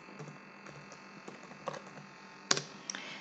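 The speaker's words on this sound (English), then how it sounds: "I'm going to type analytics." Faint, sparse keystrokes on a computer keyboard while typing a search into a browser, a few soft clicks and one sharper tap standing out against quiet room noise.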